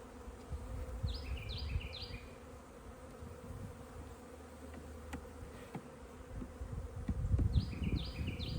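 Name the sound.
honey bees buzzing at an open hive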